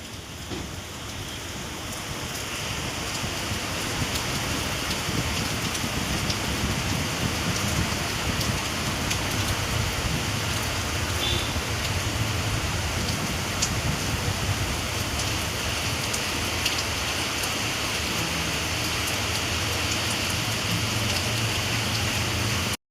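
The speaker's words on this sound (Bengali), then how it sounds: "তো প্রচণ্ড ছাঁট আসছে, বিছানা আবার ভিজে যেতে পারে" Heavy rain driven in as spray through an open window during a sudden weather change, a dense, steady broadband hiss that holds loud and close without pause.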